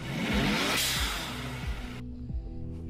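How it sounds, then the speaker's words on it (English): A turbocharged race car engine revs hard with a rushing whoosh, and the broadband hiss of the turbo blow-off valve venting cuts off sharply near the end while the engine keeps idling and burbling underneath. "And now a proper blow-off sound."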